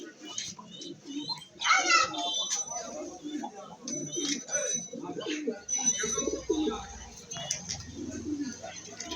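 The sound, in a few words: racer pigeons cooing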